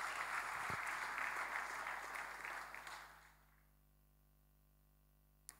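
A church congregation claps together in sustained applause that holds steady for about three seconds, then fades out into near silence.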